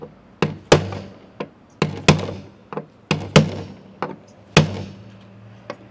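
Heavy knocking on a part of a 1983 Kenworth K100 truck during headlight and heater box work: repeated sharp metallic thunks in uneven pairs and clusters, close and loud, with no talk.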